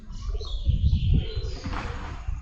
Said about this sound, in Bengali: পায়রা কিন্তু এখানে প্রচুর রয়েছে